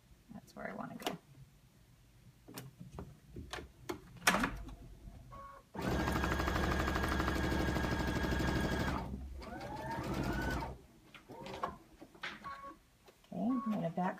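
A sewing machine stitches a quilt binding in one steady, loud burst lasting about three seconds. Quieter handling sounds and short bits of talk come before and after it.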